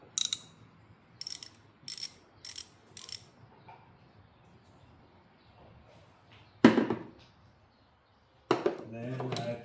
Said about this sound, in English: a 3/8 drive SK ratchet